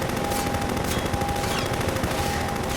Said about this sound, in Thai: ตอนนี้จะมี เฮลิคอปเตอร์นะครับ ที่มันจะไล่ยิงเรา